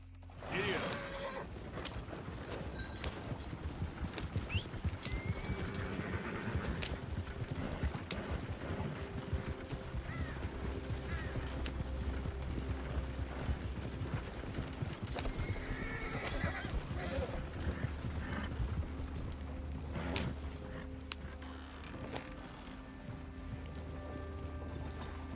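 Horse riding in Red Dead Redemption 2, with steady rhythmic hoof clip-clops, occasional whinnies and creaking tack, and a voice speaking briefly.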